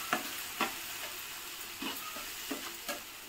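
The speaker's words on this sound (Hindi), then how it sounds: "दही को इसी टमाटर में हम मिक्स कर देंगे अच्छे से" Curd being mixed into tomatoes cooking in a pan for a no-garlic, no-onion masala bhindi, soft sizzle under a handful of regular spoon scrapes and taps, close and fairly quiet.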